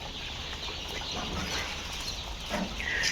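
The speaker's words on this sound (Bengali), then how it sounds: "এই সাইডে দেখাচ্ছি আরও বেশ কিছু টাইগার মুরগির বাচ্চা আছে এখানে" Tiger chicken chicks in a poultry shed make a steady, busy chorus of soft peeping and clucking throughout, with a few louder calls and some light wing rustling near the end.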